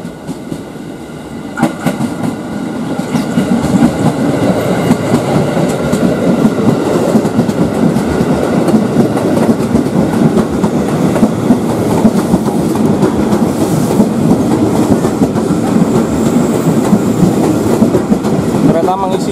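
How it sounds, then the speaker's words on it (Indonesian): A loud train rushes past close by as two trains pass each other in Indonesia, wheels clattering rhythmically over the rails in a dense, continuous rumble that swells after a quieter start. "Kereta kembali bertemu dengan kereta lain."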